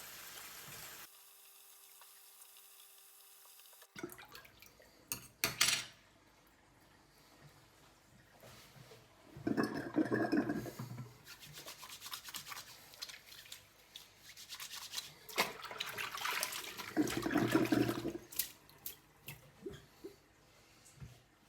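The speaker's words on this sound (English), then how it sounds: "once I pull the plug, you'll actually see that the water drains out of the sink much quicker than it did before" Water drains from a sink after the plug is pulled, gurgling and rushing in uneven bursts that swell and fade, with quiet handling noises between.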